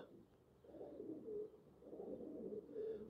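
A group of pigeons coos continuously in low, rolling phrases nearby, several overlapping calls rising and falling across the moment with no clear speech.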